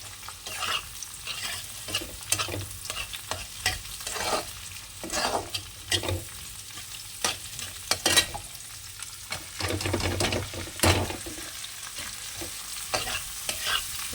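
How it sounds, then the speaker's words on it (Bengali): Fried rice with carrot, beans, capsicum, egg, cabbage and chopped chilli stirred in a hot pan: close, steady sizzling broken by repeated spatula scrapes and clanks in an irregular rhythm, with no talking. "এটা একটু নেড়ে মিশিয়ে নেবো"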